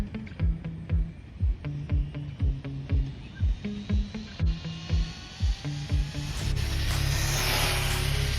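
A Rlaarlo X12S RC car on a 3S battery makes a string of short, close electric motor whine bursts as the throttle is blipped, then a sustained loud roar at full throttle.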